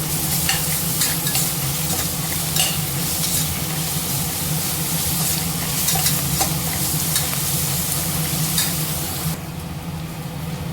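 Onions fry in a pan as ginger garlic paste is stirred in: a loud, continuous sizzle with scraping stir strokes, close up and without voices.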